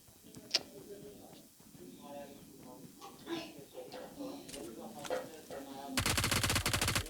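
Gunfire in PUBG Mobile, a single shot early then a rapid automatic burst near the end, heard under ongoing voices of players talking.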